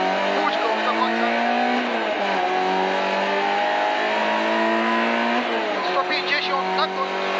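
A Citroen C2 VTS rally car on a test day holds its engine at full throttle, a loud sustained high-revving drone with shifting pitch and brief dips, heard from inside the cabin.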